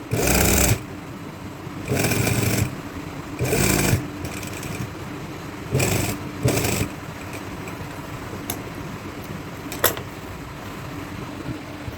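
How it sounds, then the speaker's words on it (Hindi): A sewing machine stitches trouser seams in several short runs of fast mechanical whirring, each a second or so long, separated by pauses with faint handling noise. "अब इसी तरह बैक वाले पल्लों के आसन को सिलाई लगा लें।"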